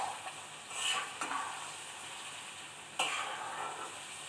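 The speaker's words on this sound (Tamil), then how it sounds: "இதையும் நல்லா அந்த எண்ணெயிலே நல்லா பரட்டி விடணும்." Onions and turmeric stirred in hot oil in a pan over a medium flame, with a soft continuous sizzle and a few louder scrapes of the stirring spoon, fairly close and steady.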